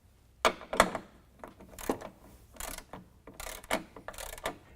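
Ratchet wrench tightening nerf bar bracket bolts to the body of a 2013 Ram 1500 pickup: quiet, uneven bursts of clicking ratchet strokes with small metallic clanks, close by and fairly soft.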